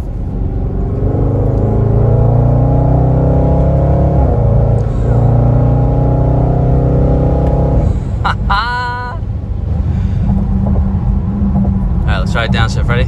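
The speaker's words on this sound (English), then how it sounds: "we'll do a downshift, and then we will give her the beans" 2020 Range Rover Velar SVAutobiography engine rumbling and building as it accelerates after a downshift, a loud, steady low drone heard from inside the cabin beneath people talking.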